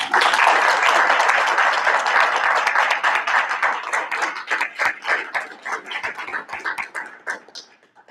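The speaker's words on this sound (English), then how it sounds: "Let's give a great round of applause and congratulations to all of our great educators." A school board meeting audience bursts into loud, dense applause for honored educators, a steady wash of many clapping hands that gradually thins into scattered individual claps before fading out.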